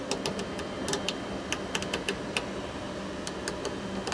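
Buttons in a Honda car interior, shown at a tech expo, are clicked one after another, giving faint, crisp irregular clicks over a low background hum.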